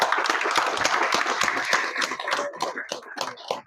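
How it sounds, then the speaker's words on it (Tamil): Audience clapping and applause at a Tamil film launch event honoring a producer, a loud dense burst of hand claps that thins and becomes more scattered toward the end. "திரு பிரபாகரன் சார் அவர்களை ஒரு வாட்டி உங்க கரகோஷத்தோட."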